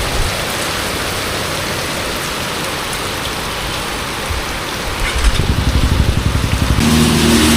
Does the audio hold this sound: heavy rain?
yes